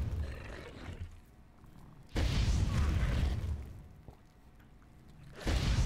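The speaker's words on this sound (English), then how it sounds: "a fistful of fire being thrown at the enemy" A thrown fire attack exploding against an enemy in the video game Entropia Universe: two heavy roaring blasts, each sustaining a rumbling whoosh for a few seconds, with a third beginning at the end, and no speech.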